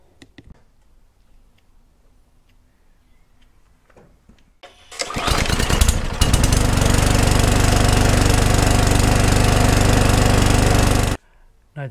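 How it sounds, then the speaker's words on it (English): Quiet rustling, then a Briggs & Stratton petrol lawn mower engine sputters to life and roars steadily and loudly close by before cutting off abruptly. "Now that we're happy the lawnmower is running fine and hasn't blown up"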